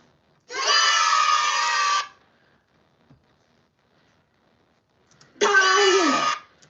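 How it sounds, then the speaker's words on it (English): Two loud bursts of children shouting and cheering, each lasting about a second and a half, separated by a few seconds of near silence, the second burst with a voice sliding in pitch. "the kids cheering."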